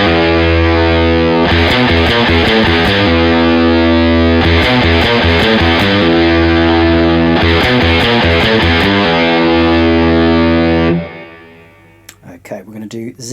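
Distorted electric guitar plays a riff, loud and steady with repeating picked phrases for about eleven seconds before fading out.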